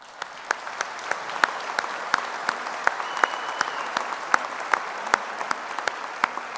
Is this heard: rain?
no